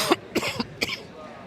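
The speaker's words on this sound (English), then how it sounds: "I thought I'd switch my microphone off before I coughed, but clearly I didn't because I heard it in my ears." A stadium athletics commentator coughs three times into a live microphone, with sharp, close bursts over quiet background noise.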